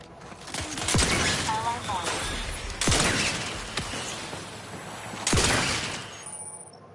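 Three-barreled shotgun in Outer Worlds 2 fired three times, each a sharp booming blast with a ringing tail, spaced about two seconds apart at moderate loudness.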